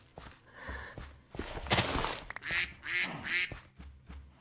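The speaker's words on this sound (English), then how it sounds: "I wish we could just take a duck home with us." A duck in the Minecraft game gives a few short, nasal quacks in quick succession near the end, fairly close and clear, with some soft rustling before them.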